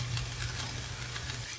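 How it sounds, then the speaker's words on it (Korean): Steady sizzling and stirring in a hot pan as tofu is mixed into scrambled eggs and vegetables, a continuous close frying hiss with no talking. "두부 투하해 줍니다."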